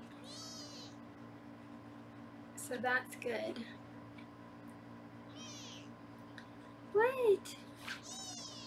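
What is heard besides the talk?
foster kitten meowing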